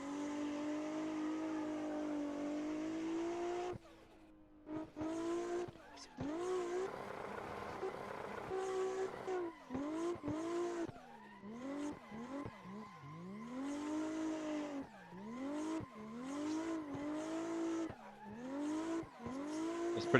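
A race car driven in Assetto Corsa, its engine whining up and down through gear changes, with repeated revving climbs and sharp drops over a steady drone.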